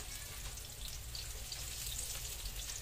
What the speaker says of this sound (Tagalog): Lagay na natin yung bawang. Higisin na natin